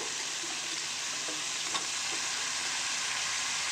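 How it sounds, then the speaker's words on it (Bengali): Sliced vegetables and dried fish frying in a pan while being stirred, a constant close sizzle with a few faint utensil scrapes and taps. "সবজিগুলো দিয়ে দিচ্ছে যেগুলো আমি স্লাইস করে রেখেছিলাম দেখো এবার এগুলো দিয়েও ভালো করে নাড়াচাড়া করে নেবো"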